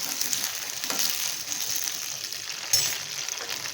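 Gunda (cordia fruit) fries in a generous amount of oil, a steady, close hiss and sizzle with light stirring scrapes throughout.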